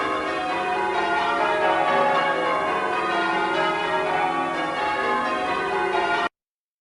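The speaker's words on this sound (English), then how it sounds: "so what you just heard was an example of change ringing." Church bells ring in change-ringing sequence, overlapping metallic tones sounding continuously for about six seconds before cutting off.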